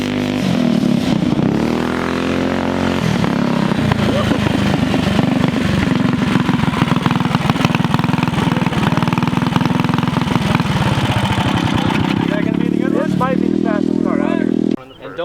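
A small go-kart engine in a backyard race revs and idles nearby, a loud buzzing drone with rising and falling pitch and rapid throttle blips toward the end, with people talking over it.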